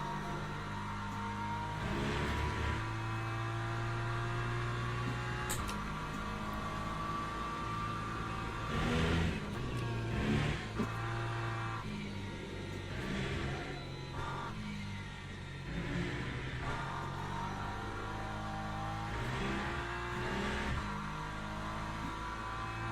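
A race car engine in the sim racing game Le Mans Ultimate, on worn tyres in a multiclass race with rain, drones steadily throughout, its pitch rising and dropping through gear changes and brief lifts, loud and close with no talking.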